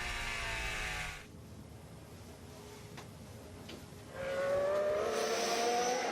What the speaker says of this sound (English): We're just riding in car with Nicholas Latifi now. This is what happened. Just have a listen.